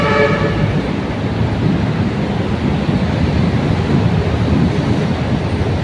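A train runs at an elevated MRT-7 station, a loud continuous rumble and rush of wheels and air that stays close and even, with a brief horn-like tone at the start.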